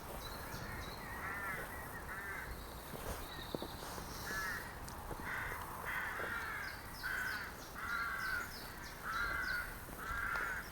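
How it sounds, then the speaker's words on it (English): Rooks caw repeatedly in the distance in a churchyard, a chorus of harsh calls coming in bursts over a quiet outdoor background. "the sound of birds there, which I believe are rooks"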